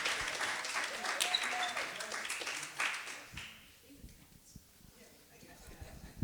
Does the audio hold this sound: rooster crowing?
no